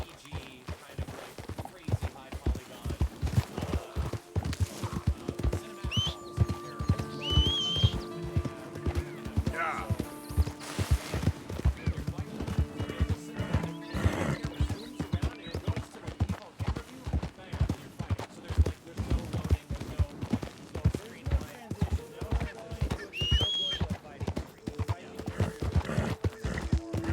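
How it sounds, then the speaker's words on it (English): Horse in a Red Dead Redemption game on PS4 Pro: continuous rhythmic clip-clop of hooves trotting, close and clear, with a couple of high whinnies breaking through midway and near the end. "Where my damn horse at, yo?"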